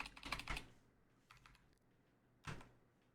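A few quick clicks of computer keys are tapped close by, with a short burst at the start, a lighter patch, then another tap.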